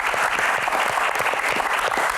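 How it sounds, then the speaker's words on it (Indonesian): Studio audience on an Indonesian Q&A talk show claps for Sherly, a dense, loud burst of applause running evenly throughout with no speech over it. "Tepuk tangan dulu buat Sherly."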